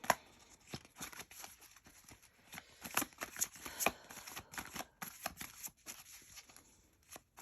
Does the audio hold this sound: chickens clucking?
no